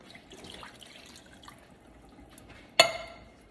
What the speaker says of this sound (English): Use one of these 15-ounce tomato sauce cans to add a little water.